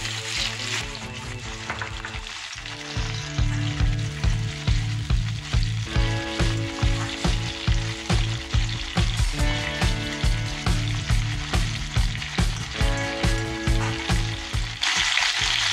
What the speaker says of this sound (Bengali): এর মধ্যে সরু করে কেটে রাখা আলু ভেজে নিচ্ছি